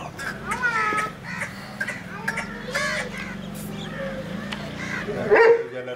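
Dogs of the pure Aseel bully breed bark a few times at moderate distance amid an outdoor gathering of people talking, with fowl clucking nearby.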